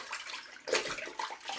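Water splashes briefly at a bathroom sink while a man rinses his face after a wet shave, a soft wash of running water with a louder splash in the middle and another toward the end.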